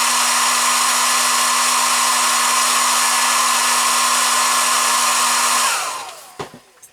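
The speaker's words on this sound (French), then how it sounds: "je vais mettre un petit coup de sèche-cheveux" A hair dryer blows steadily at close range with a loud, even whine and rushing air during work on a Jordan-Mugen-Honda F1 model, then switches off near the end, leaving a few faint knocks.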